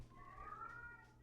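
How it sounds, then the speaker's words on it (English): A cat cries out behind a shut door, one drawn-out, wavering meow that rises and falls over a steady low hum, faint and muffled with no talk. "My cat is crying."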